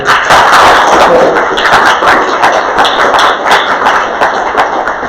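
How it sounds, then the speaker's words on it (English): An audience at a pitch presentations and awards event applauds loudly and close, with a dense burst of many hands clapping and sharp individual claps standing out, recorded with harsh, distorted audio. "So, a round of applause for all of you."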